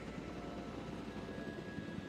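A helicopter in the video game Jurassic World Evolution 2 gives off a faint, steady, droning rotor hum that holds unchanged throughout, with no voices over it.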